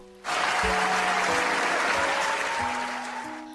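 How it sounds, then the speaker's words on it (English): Applause sound effect plays as a loud, steady burst of clapping that starts abruptly and holds for about three seconds before tapering slightly, with faint tonal notes layered underneath. "A round of applause for me, a round of applause for you for being here"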